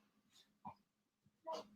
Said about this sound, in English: our 2 dogs, our 12-year-old dog and our 12-week-old dog, we're just having a moment to figure out dominance